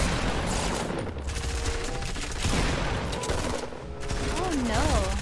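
Rapid gunfire from a shooter video game, with bursts of automatic shots hitting walls, loud and dense throughout alongside game effects and music-like tones near the end.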